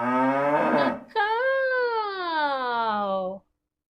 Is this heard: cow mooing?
yes